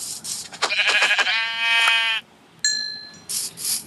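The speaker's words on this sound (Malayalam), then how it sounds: "അതാ അത് ആട് ഗൈസ്." A goat in Minecraft gives a couple of loud, close, wavering bleats, then a bright chiming game tone follows after a brief pause.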